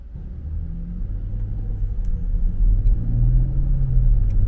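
A Land Rover Discovery P360 on a test drive gives a low, smooth engine rumble from inside the cabin. The rumble builds gently as the car gathers speed, and no one speaks over it.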